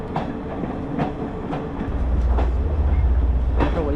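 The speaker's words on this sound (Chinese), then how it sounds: "火车发车了，正式开启我们的高山火车之旅" A Sri Lankan mountain train pulls away on the hill line from Nuwara Eliya to Ella. Light clatter and knocks give way to a deep, rising rumble of rolling wheels, heard close from inside the carriage.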